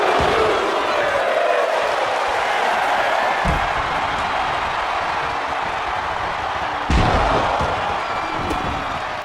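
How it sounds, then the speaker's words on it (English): WWE 2K24 wrestling match: a wrestler is slammed onto the mat, giving two sharp thuds over a steady arena crowd roar, with commentary voices faintly underneath. "Shayna Baszler slams Jade Cargill to the mat"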